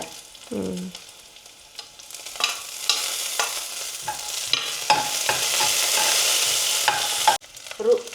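Sliced onion fries in hot oil and gets stirred, giving a close sizzling hiss broken by repeated utensil scrapes and clinks against the pan, swelling louder toward the end before a brief dip.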